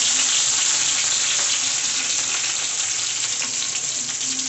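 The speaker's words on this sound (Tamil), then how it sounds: "எண்ணெய் ஸ்டோவில் வச்சுட்டு எண்ணெய் பச்சை மிளகா போடுறோம்" Green chillies hit hot oil on a stove and sizzle loudly, a dense, continuous crackling hiss held close and steady from start to finish, with no talking.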